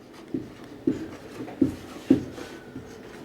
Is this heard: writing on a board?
yes